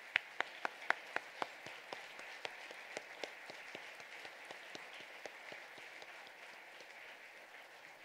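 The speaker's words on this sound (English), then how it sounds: "Let's give them a round of applause." Audience at a school Veterans Day program applauding veterans, a thin spread of claps with a few sharp nearby hand claps standing out early, fading gradually over several seconds.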